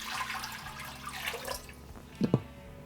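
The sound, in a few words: water being added to grated citrus peel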